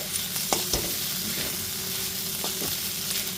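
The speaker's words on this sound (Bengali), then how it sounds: "গ্যাসের ফ্লেমটা লো টু মিডিয়ামে রেখে 4 থেকে 5 মিনিট ধরে আদা রসুন বাটাটা খুব ভালো মতো একটু কষিয়ে নিয়েছি।" Ginger garlic paste sizzling in oil as it is sautéed over low to medium flame for Gondhoraj chicken, a steady close hiss punctuated by a few spatula scrapes.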